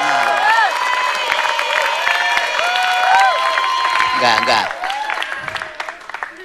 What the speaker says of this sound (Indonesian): Wah, wow, dapat tepuk tangan.